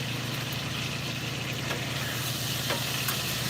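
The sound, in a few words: stirring sausage, peppers and onions sizzling in a pan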